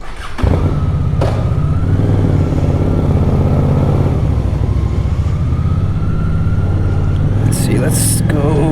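A motorcycle rolls along at low speed with a steady engine drone and low rumble throughout, its tone shifting slightly near the end; wind buffeting and a voice are partly mixed in.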